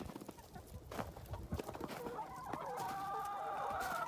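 Chickens cluck and murmur close by amid faint outdoor noise, with a higher drawn-out squawk rising toward the end.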